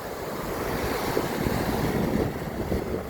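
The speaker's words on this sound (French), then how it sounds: "regardez-moi ces belles vagues." Ocean waves break and wash in a continuous surf roar with wind buffeting the microphone, small swells of louder crashes rising and falling, with no talking.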